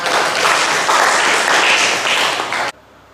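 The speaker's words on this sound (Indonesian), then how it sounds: "Tepuk tangannya Mas" Audience applause during a school lesson on marriage, a dense burst of clapping from a class that holds steady and then cuts off abruptly near the end.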